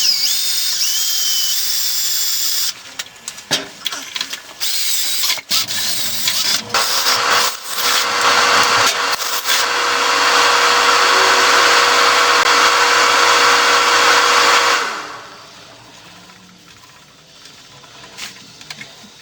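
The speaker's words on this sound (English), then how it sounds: "Now I'm going to drill it out with a small pilot bit." A small pilot bit drills out a plug weld in metal, first in short choppy bursts, then in a sustained high grinding whine that stops abruptly, followed by quiet handling noises.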